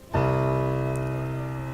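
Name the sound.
low bass note on piano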